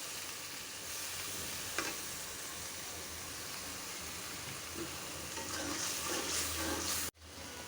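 Spice masala with bay leaf, garam masala and sour yogurt sizzles in a pan, a continuous quiet frying hiss with an occasional stir scrape, briefly interrupted near the end.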